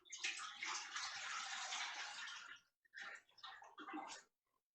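Custard pours from a height into a baking pan set on an oven rack, a continuous close splashing stream that stops briefly, then resumes in two shorter pours before ending.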